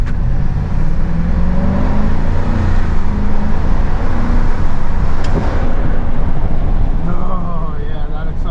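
A 2023 Ford F250 heavy duty pickup with the Godzilla engine accelerates, its steady loud engine drone and road rumble heard from inside the cab, with a voice speaking over it.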